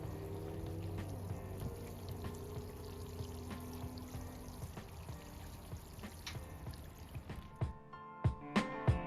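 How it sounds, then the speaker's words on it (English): Water pours and trickles into soil around newly planted boxwood roots, a quiet, steady flow for several seconds that thins toward the end, followed by a few light knocks. "I'm watering it in well to settle those roots into the new soil."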